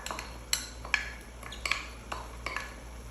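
A spoon stirring macaroni with coriander leaves in a metal pot, producing irregular clinks and scrapes against the pot, several sharp metallic taps over a low steady hum.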